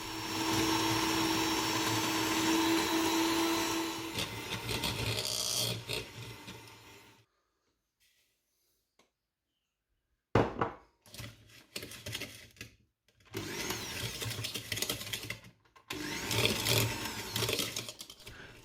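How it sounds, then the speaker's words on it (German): An electric mixer whirs steadily as it beats soft butter until creamy, running loud for several seconds, then falling silent before resuming in short, choppy bursts. "schlagen weiche Butter cremig auf"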